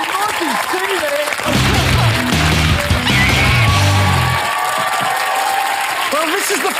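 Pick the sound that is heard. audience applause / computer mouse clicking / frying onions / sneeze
audience applause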